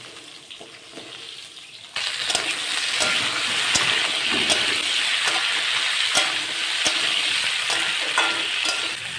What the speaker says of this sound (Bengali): আলু পটলগুলো ভালো করে ভেজে নেব